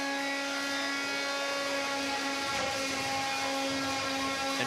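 A combat robot's spinning weapon whines like a jet engine at an arena event, a steady high-pitched tonal drone with stacked harmonics holding at constant loudness throughout.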